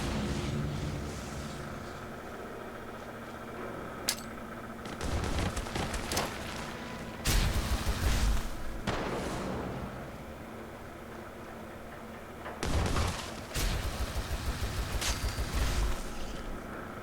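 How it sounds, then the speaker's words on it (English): Several deep, rumbling booms from Fallout 4's Nuka World break through a steady roar of noise, with crackling bursts and a sharp crack between them. "I heard 2 explosions"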